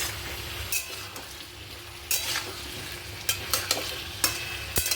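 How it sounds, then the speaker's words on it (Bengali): Potatoes for aloo posto sizzle steadily in a frying pan while a spatula stirs them, with several sharp scraping strokes cutting through the close, continuous frying sound. "এবারে আলুটা একটু নাড়াচাড়া করে দিলাম"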